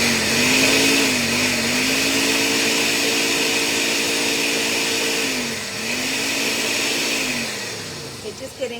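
A blender whirs through mashed cauliflower, its motor pitch dipping and rising as it strains in bursts, loud and close, then cuts out near the end.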